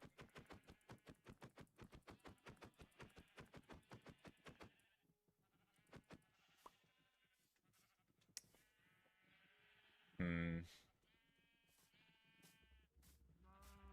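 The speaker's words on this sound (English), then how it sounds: "One says hello, Ocean the sheep." Sheep bleating in the video game Minecraft, a sharp loud bleat standing out alone midway after a stretch of rapid rhythmic tapping, with quieter game sounds around it.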